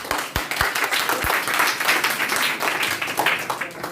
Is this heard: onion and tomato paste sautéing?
no